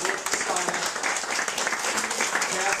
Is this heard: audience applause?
yes